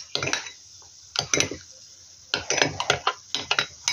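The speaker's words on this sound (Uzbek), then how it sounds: "Hammasini yaxshilab aralashtiramiz." A spoon clinks and scrapes against a container while a homemade mixture is stirred, coming in short clustered bursts of close clattering separated by pauses.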